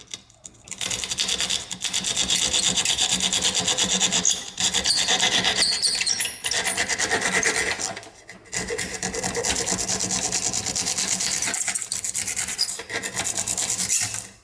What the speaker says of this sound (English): drywall saw. Also works on plywood.